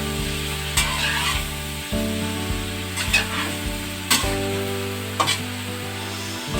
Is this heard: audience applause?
no